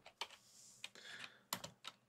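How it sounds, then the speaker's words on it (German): Typing on a computer keyboard nearby, a few irregular bursts of clattering keystrokes with short pauses between them in a quiet room. "Was tippst du da schon wieder auf deiner Tastatur rum?"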